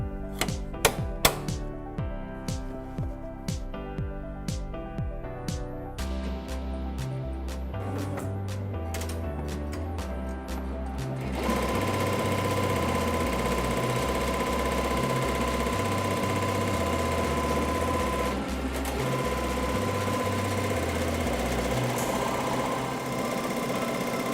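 An embroidery machine stitches a design onto a backpack held in a magnetic hoop, giving a steady rapid mechanical whir with rhythmic needle clatter. The sound begins with slower, spaced start-up strokes before settling into continuous running.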